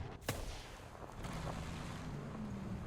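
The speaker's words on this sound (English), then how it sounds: "they did change the sound on smoke falling, so it sounds a little bit different" Smoke falling in the War Thunder video game on an advance-to-the-Rhine map: a sharp crack opens, then a soft rushing hiss and low rumble linger, fairly faint, with no voice.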